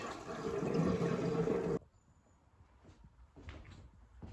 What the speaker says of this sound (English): I'm walking around and I'm closing up all these windows